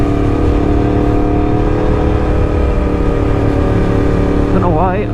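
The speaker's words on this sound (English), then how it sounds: "this bike seems very loud today" Loud motorcycle engine heard while riding along a road, a steady, close drone throughout with a brief rise in pitch near the end.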